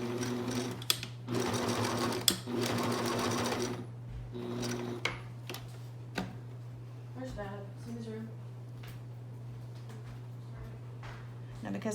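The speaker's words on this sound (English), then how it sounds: "I have to make sure that I sew that right where it needs to be sewn so I don't mess it up" A sewing machine stitches a fabric face mask with a filter pocket and nose bridge, running in a steady loud burst for several seconds, then stopping and starting in shorter runs, while a constant mains hum sits underneath and a person talks in between.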